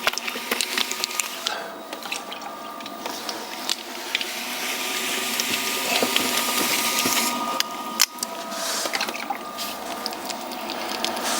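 Wet clay being centered by hand on a spinning pottery wheel for a tall vase, giving a steady wet rubbing and squishing hiss with a faint motor hum, a few clicks and taps, and no talking.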